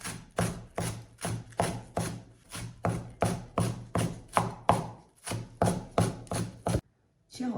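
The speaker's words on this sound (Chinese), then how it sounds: "接下来我们再来切点葱花。" Knife chopping scallions on a cutting board, a steady run of about twenty firm, evenly spaced thuds, close and clear, stopping briefly near the end before one last cut.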